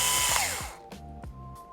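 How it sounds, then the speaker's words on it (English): A small electric screwdriver whirs briefly while backing a screw out of the Wi-Fi card in a Lenovo 300E G3 Touch Chromebook, followed by a few faint clicks and taps. "You also want to take out the screw holding the Wi-Fi card in so that it's easier to disconnect."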